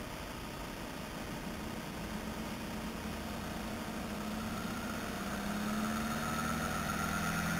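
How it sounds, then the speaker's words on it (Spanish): A Bedini generator starting up and running, heard as a steady mechanical hum and hiss with tones that rise slowly as it spins up, constant and unaccompanied by speech. "Ponemos en marcha el generador."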